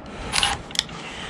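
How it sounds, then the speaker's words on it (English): Ratcheting wrench worked on a boat trailer during a bunk replacement, two short metallic ratchet clicks close by in brief succession, with quiet in between. "Can't grab a ratcheting wrench without flinging around like this."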